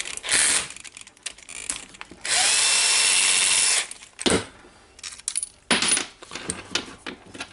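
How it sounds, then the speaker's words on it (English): A power tool whirs in bursts while unscrewing long greasy bolts from a Milwaukee PLH 32 XE hammer drill being torn down, one longer sustained run and several short ones, with metallic clinks of parts between them, close up. "So I need to unscrew them."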